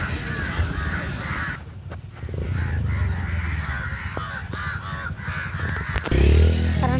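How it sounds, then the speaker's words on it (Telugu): Crows caw repeatedly in an outdoor setting, harsh calls overlapping from several birds over a noisy background, with a louder rumble near the end. "ఒక కాకి తెగరిసేస్తున్నాయండి"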